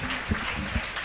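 Church congregation clapping joyfully during a worship service, a brief steady burst of crowd applause with a few louder claps standing out.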